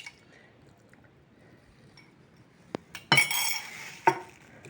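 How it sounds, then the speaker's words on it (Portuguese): Dough being worked in a bowl as yeast is mixed into long-fermented artisan bread, a quiet start followed by a few close clinks of a utensil and a short squishy stirring burst. "E vou só mexer aqui. Só envolver o fermento aqui."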